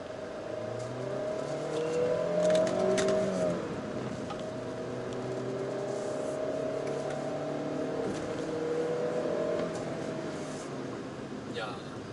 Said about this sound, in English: So this is the kind of car that you can enjoy full throttle driving from first gear to third gear